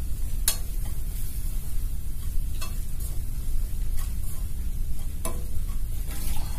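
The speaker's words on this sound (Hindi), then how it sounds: "मसाले को अच्छी तरीके से भून लेंगे।" Spices with coriander powder roast in a pan for shahi chilli paneer, giving a steady close sizzle broken by a few sharp scrapes and clicks from stirring.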